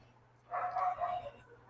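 A dog barks in the background with a quick, faint burst of a few yaps while a truck passes on the street outside.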